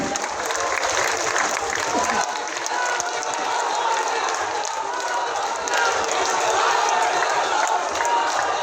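A crowd at a political party youth-wing launch gives steady, dense applause welcoming a newly nominated convener, a sustained wash of clapping with a voice faintly present beneath it.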